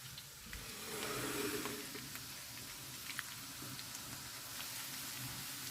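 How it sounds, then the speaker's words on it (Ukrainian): Zasmazhka sizzles in a hot frying pan as it browns to golden. A soft, steady crackling hiss holds throughout, with faint stirring scrapes and no talking. "Засмажечку досмажуємо до гарного золотистого кольору."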